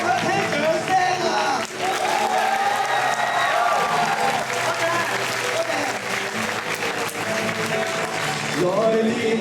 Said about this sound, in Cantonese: 我想聽掌聲啊！